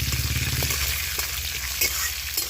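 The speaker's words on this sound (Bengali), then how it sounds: "এখন দিয়ে দেবো অল্প একটু কড়াইশুঁটি আর অল্প কিছুটা চীনাবাদাম, এগুলোকেও তেলে ভেজে নেবো হালকা করে" Green peas and peanuts sizzle as they fry in hot oil in a pan, a steady close crackle with faint stirring clicks and no talking.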